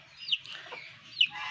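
Hens clucking on a free-range village chicken farm in Indonesia, where the breeding hens have fallen ill, with two short, fairly close calls standing out over a low, steady background of farmyard noise.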